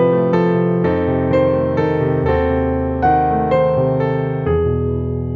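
Solo piano plays a variation on the theme of Brahms' Intermezzo Op. 118 No. 2, a warm, legato phrase of layered chords under a clear upper melody, close and alone.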